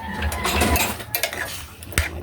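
Metal utensil scraping and clinking against a pot as native chicken adobo is stirred, several quick knocks and scrapes close up.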